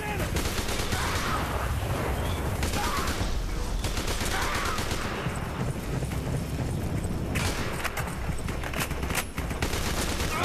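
Gunfire in the shooter game ATSS 2: Retribution: dense, continuous bursts of automatic fire and explosions fill the whole stretch, loud and close, with a player's voice briefly under the shooting.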